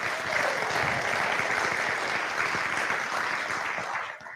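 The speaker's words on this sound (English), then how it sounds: "Let's give the startups a big round of applause." An audience at an investor demo day gives startups a big round of applause, sustained even clapping for about four seconds that fades out at the close.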